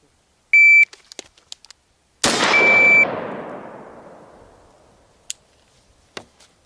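A single loud rifle shot fired from a relaxed hanging position in a timed drill, preceded by a shot-timer beep and followed by a long reverberating echo, with a few faint clicks and handling noises.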